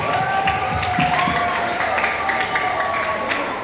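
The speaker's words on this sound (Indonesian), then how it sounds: "tepuk tangan sekali lagi untuk Bang Mas PIKR" A crowd of young students at an indoor school event claps and cheers, a continuous loud wash of applause with shouts and chatter mixed in, sustained throughout.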